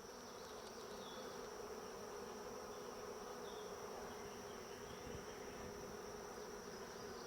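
A honeybee swarm buzzes steadily around a hive during a swarm catch, a dense continuous drone of many bees filling the air, faint and unbroken throughout.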